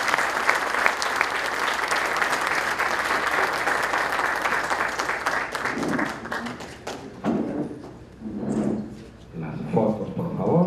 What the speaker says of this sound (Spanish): Fuertes palmas a él.